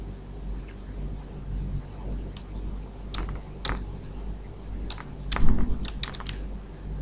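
Someone types a domain name on a computer keyboard, producing quick irregular clicks and taps, some louder key strikes standing out over a low steady room hum, with no speech.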